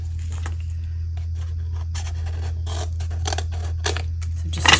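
Scissors snip through paper on a Stampin' Up treat box craft, a quick run of crisp, close cuts with a low steady hum underneath and no talking.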